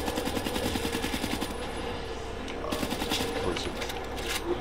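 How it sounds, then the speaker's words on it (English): The KN-44 assault rifle fires in a video game in quick, rhythmic automatic bursts with a brief pause in the middle, loud and steady against background battle noise. "Alright, so here's this gun. This gun's not a bad gun. This is a KN-44."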